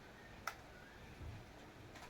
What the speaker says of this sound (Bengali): ঘড়ি চলছে